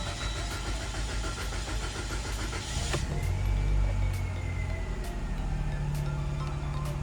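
A Mitsubishi Lancer X, just refitted with a new fuel tank, is cranked with a whirring starter for about three seconds before the engine catches and settles into a steady idle, running close and alone.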